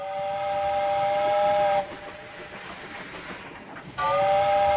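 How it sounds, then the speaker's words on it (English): A train sounds a tonal whistle over a rolling rumble, with a break in the middle where only the rumble of the wagons continues before the whistle returns. "Train."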